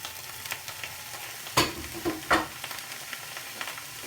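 Onion, celery sticks, courgette and red pepper stir-frying in a pan on the hob: a soft continuous sizzle with a few sharper scraping stirs and clatters, fairly quiet and close.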